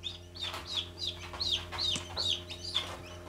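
Newly hatched broiler chicks peep in a steady run of short, high chirps, about six or seven in three seconds, close and fairly loud over a low indoor hum.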